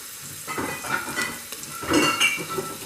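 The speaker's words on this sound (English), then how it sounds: "Our onions have started to sweat nicely" Chopped onions sweat and sizzle in a casserole pot with a soft, steady frying hiss. A few nearby stirring and pot sounds break through it, and no one speaks.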